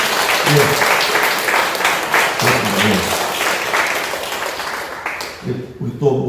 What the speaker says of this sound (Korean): 뜨거운 격려의 박수 한번 부탁드릴까요?